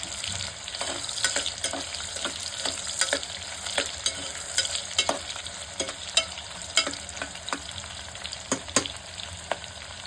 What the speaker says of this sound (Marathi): कांदा बघा आपला चांगला भाजलेला आहे